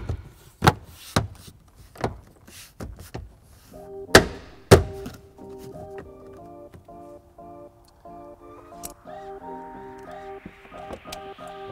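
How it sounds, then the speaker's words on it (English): Interior trim panels snapped back into the cargo area of a 2016 Honda Pilot, a string of sharp plastic thunks and clicks, loudest in the first few seconds, followed by a faint repeating electronic chime. "And now we simply begin by replacing our panels."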